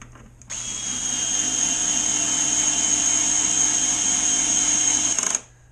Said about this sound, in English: I'm just going to drill a nice hole there